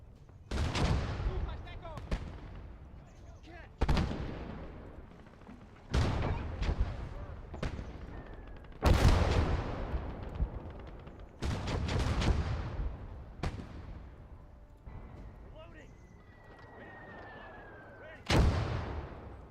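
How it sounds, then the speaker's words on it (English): Enemy artillery fire in the World War II game Gates of Hell, heard as a series of loud, sharp blasts at irregular intervals, some close and booming, others more distant, with a whistling shell passing between them and speech-like sounds at times. "Enemy artillery!"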